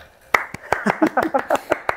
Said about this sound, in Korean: 박수라도 쳐야지.